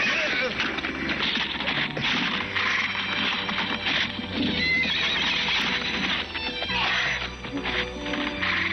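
A white horse whinnies loudly in a Tagalog-dubbed Adventures of Tom Sawyer cartoon, with clip-clopping hooves and busy action sounds, mixed under voices and music.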